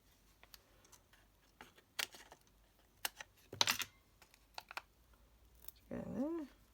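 Scissors snip paper while making a snowman-themed Christmas card, a few sharp cuts scattered among crafting clicks and rustles, close and moderately loud, with a brief burst of voice near the end.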